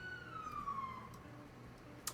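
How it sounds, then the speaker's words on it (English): A police or emergency siren wails from outside, faint and distant, its tone sliding slowly downward under a quiet room. "Not sure if you heard that siren outside,"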